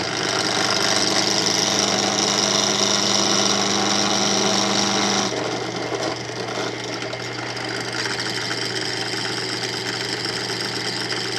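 A drill bit boring through leather for a knife sheath, a steady mechanical whir with a constant motor tone that drops off about halfway through as the bit eases, continuing as a rougher running hum, with no talking.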